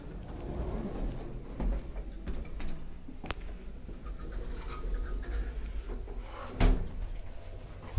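A Kleemann HRS lift door at The Tower Hotel in Waterford closes, with two sharp clunks a few seconds apart over a quiet background rumble.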